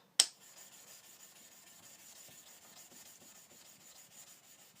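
A Chartermade knife is sharpened: a sharp click opens, then soft, faint rasping strokes of the blade against a sharpener follow in a quiet, steady rhythm.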